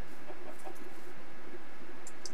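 Chickens cluck in a farming video game, giving a few faint, scattered clucks over a steady hiss of background noise with no talking.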